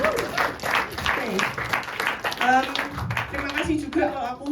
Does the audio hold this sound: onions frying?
no